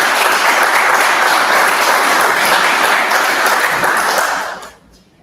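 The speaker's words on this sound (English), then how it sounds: "Applause for everyone." Audience at a live music demo night giving a dense, sustained round of applause for the performers, loud and steady before tapering off abruptly at the end.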